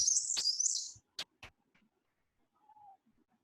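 A grey-crowned warbler in degraded habitat gives a short, high, thin song phrase, followed by a few brief clicks and a faint soft note, heard alone in otherwise quiet surroundings.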